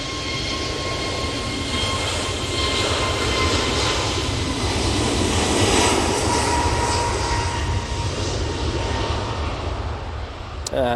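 An EasyJet Airbus A321neo takes off from Manchester Airport bound for Antalya, its engines building into a loud, sustained roar with a whining tone on top that holds through to the end, no talking heard.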